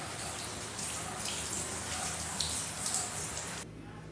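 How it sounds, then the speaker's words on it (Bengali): Tap water runs steadily with splashing as fish is rinsed under it, close by, stopping abruptly near the end. "চলো মাছটাকে আগে ধুয়ে নিই"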